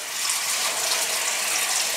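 Water running and dripping steadily from a soaked beard into a bathroom sink while a man leans over it, a continuous broadband splashing hiss at close range with no talking.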